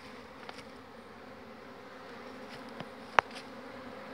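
Honey bees buzz at a wild hive inside a tree trunk, a faint steady hum with a few sharp ticks and clicks close to the microphone.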